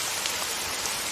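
Steady rain falls in a dense, even hiss with fine patter of drops on surfaces, close and continuous throughout with no voices.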